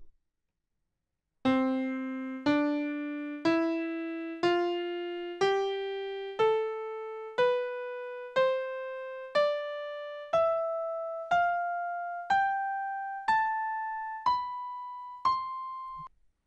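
A rising scale of single piano notes from middle C, struck one by one at a steady pace, each ringing out and fading before the next, with no other sound.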